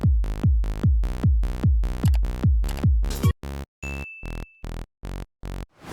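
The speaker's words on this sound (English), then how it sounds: "So the bass is actually made in Serum and is a preset from my new Euro Trance Serum preset pack." Saw-wave bass from a Serum preset, pitched down an octave, plays a rhythmic run of short, loud plucked notes for about six seconds, first tight repeated hits and then longer sustained stabs, heard alone with no talking.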